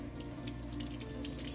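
Water runs steadily from a tap into a container while hot chocolate is being made, a continuous close rushing and splashing that stays at an even level throughout.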